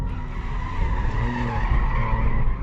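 Alfa Romeo Stelvio Quadrifoglio SUV with its V6 engine running hard near the mic, a steady loud growl with squealing tyres layered over it throughout.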